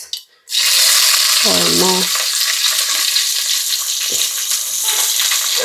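Onions tipped into a hot pan for Telugu tomato curry, a loud steady sizzle starting after a brief stir, continuing evenly with faint clatter throughout.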